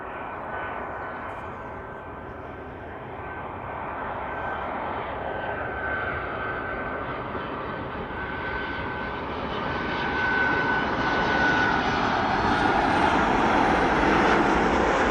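A passenger airliner inbound from Gran Canaria lands at East Midlands Airport, its engine roar a broad steady rush heard from a distance that swells louder as reverse thrust builds toward the end.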